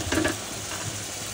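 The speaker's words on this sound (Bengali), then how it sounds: "তো আলু আর টমেটো দিয়ে এবার ভালো করে মশলার সাথে কষিয়ে নিব।" Potatoes and tomatoes fry with spices in a pan as part of a river pangas fish curry, giving a steady close sizzle with a brief stirring scrape near the start.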